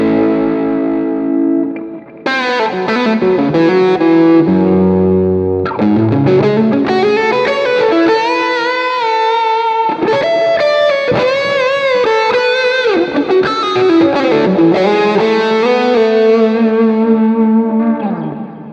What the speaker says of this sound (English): for the lead tone, I actually turned on all of these. I have a delay, a multi-delay, and a reverb